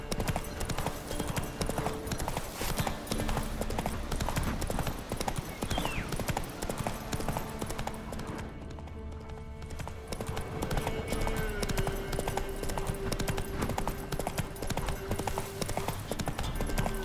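Roach the horse galloping in The Witcher 3: Wild Hunt, a fast continuous clatter of hooves throughout with a brief dip in the middle, loud and near against game ambience.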